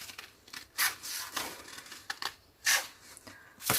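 Scissors cut through chart paper for a tree chart in quick, rough snips, a series of short, soft rasping crunches with brief gaps between them, heard close up with no talking.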